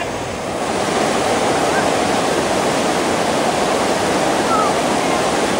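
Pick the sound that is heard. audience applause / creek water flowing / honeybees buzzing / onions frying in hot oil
creek water flowing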